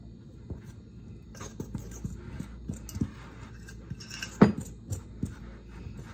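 Repeated light metallic taps and scrapes of a fork crumbling butter into flour in a bowl, irregular and close, with a sharper clink partway through.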